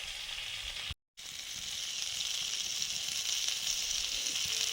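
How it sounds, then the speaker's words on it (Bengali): Crabs frying in hot mustard oil give a steady, loud close sizzle that drops out for a split second near the start, then resumes and holds evenly without talk. "সর্ষের তেল দিলাম কাঁকড়াগুলো ভাজবো"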